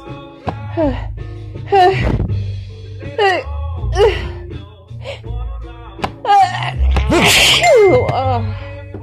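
Strong repeated human sneezes from someone with lingering cold and fall allergies, several forceful bursts close to the microphone with gasping inhales and breathy sounds between them.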